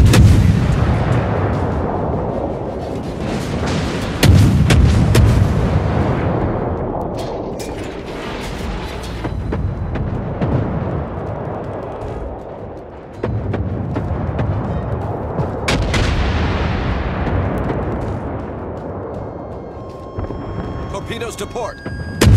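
Naval gunfire in World of Warships, with heavy booming salvos rolling out repeatedly, loud and close, with long rumbling decays and a sustained low roar between shots.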